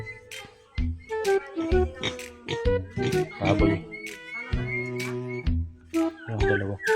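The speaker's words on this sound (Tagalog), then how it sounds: "bisitahin naman natin ang ating hagang baboy" Pigs in a backyard pen grunt and squeal repeatedly at close range, a busy overlapping chorus of oinks with short pauses between bursts.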